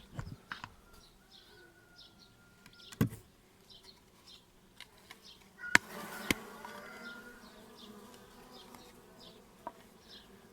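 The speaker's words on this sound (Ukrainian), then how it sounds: "Погода тепла і бджоли спокійні." Honeybees hum in the middle of the nest of a hive just opened after winter, a steady low drone with faint high buzzing streaks, broken by a few sharp knocks and clicks of handling.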